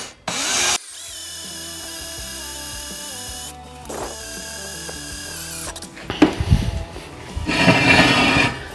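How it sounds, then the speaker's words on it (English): A power drill whines steadily as it bores through metal with cutting fluid, pausing and restarting, with grinding and scraping noises near the end. "the key to drilling through metal like this is just slow, steady pressure"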